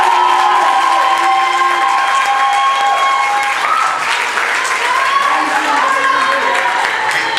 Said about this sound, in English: I want to give a warm round of applause to Sergeant Evans